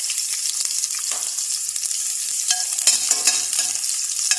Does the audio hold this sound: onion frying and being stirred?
yes